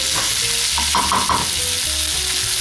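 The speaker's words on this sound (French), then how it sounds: "je vais commencer par rajouter les poivrons, la concassée de tomates" Peppers and crushed tomatoes sizzle loudly in a hot pan of ratatouille niçoise, with a steady frying hiss broken by bursts of crackling and stirring as the vegetables go in.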